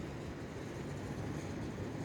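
Southeastern high speed train arriving at Stratford International station, a steady low rumble and broad rolling noise holding level throughout with no voices.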